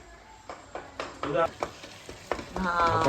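Vegetables for pav bhaji being mashed and stirred in a sizzling pan, with a series of irregular scraping thumps over a steady frying hiss; a voice talks briefly in the background.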